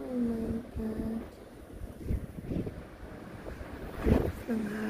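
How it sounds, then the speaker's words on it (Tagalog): Strong winter wind on a snowy morning roars and gusts against the microphone outdoors, with faint voices and a few tonal calls drifting through. "Lakas ng hangin."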